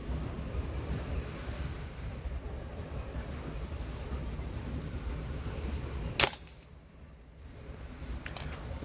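A single sharp crack of a light slug rifle shot at bottle caps outdoors, sudden and loud over steady background noise, followed by a brief quieter lull.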